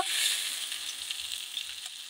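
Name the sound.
Bhola fish frying in oil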